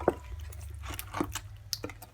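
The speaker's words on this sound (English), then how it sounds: "this is the half a cup of water that we pouring off up in there" Half a cup of water goes into cornbread batter in a home kitchen: soft, close wet drips and squishy splashes with small irregular clicks, faint and continuous over about two seconds, with no talk.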